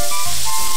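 Shrimp sizzling as it is stirred with chopsticks in the Cooking Mama video game, a short loud burst of synthetic frying hiss with a steady tonal game sound over it.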